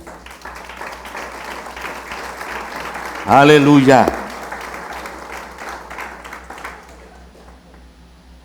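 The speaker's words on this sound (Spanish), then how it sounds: "Vamos a darle un aplauso al Señor." A crowd claps steadily throughout while a voice speaks over it, with a louder burst of cheering and shouting in the middle.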